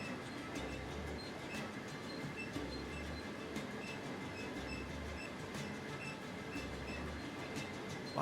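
Long Australian passenger train, around 1,500 tonnes with sleeper, club and restaurant cars, rumbling steadily along the rails with periodic low thumps from the wheels over joints, continuous and moderately distant.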